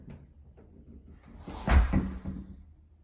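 Front door of a custom modular home with a garage and porches swinging open, a soft close-range thud and creak rising mid-clip and then fading into quiet room tone.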